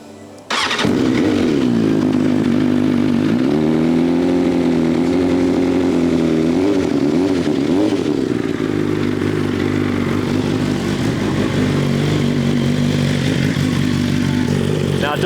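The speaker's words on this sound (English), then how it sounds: "this bike came with a full system titanium Vandemon exhaust." A BMW S1000RR superbike fitted with a full titanium Vandemon exhaust starts up and settles into a loud, lumpy idle with blips of revs, close and steady throughout, with no talking over it.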